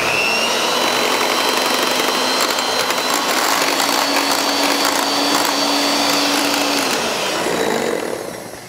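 An electric mixer whirs loud and steady for several seconds as it beats a keto casserole batter, close by and alone, its motor pitch holding before winding down at the end.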